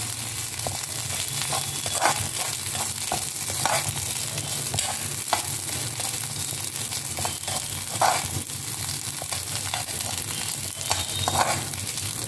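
Urad dal and tamarind sautéing in a pan while being stirred, giving a continuous close sizzle broken by repeated scraping and stirring strokes.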